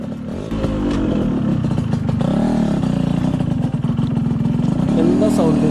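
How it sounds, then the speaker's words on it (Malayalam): A modified 2002 Yamaha RX 135 two-stroke motorcycle starts and settles into a steady, buzzing idle with a slight rise in revs near the end, close up and loud, with no one talking. "നമുക്ക് വണ്ടി ജസ്റ്റ് സ്റ്റാർട്ട് ചെയ്ത് ഓടിച്ചുകൊണ്ട് വണ്ടിയുടെ ഡീറ്റെയിൽസ് നമുക്ക് സംസാരിക്കാം"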